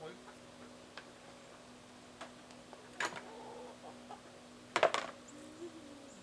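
A couple of short, sharp clucks from meat chickens break through a quiet background with a faint steady hum.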